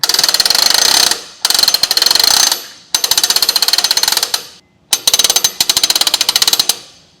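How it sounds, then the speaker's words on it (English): A 2-speed boat trailer winch with a 20-foot strap and brake ratchets loudly as the lever is flipped down and the strap pays out, in several rapid clicking bursts separated by short pauses. "Just flip this lever down to extend the strap out."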